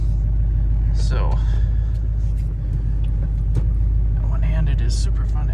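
A car drives steadily with a constant low engine and road rumble filling the cabin, while people talk intermittently inside.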